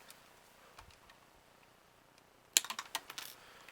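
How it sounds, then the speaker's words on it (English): Wire cutters snip through aquarium air tubing while reassembling an Airtech 3000 air pump, giving a quick cluster of sharp, close clicks and crunches after a few seconds of near silence. "I'm going to cut it right about there with my pair of wire cutters"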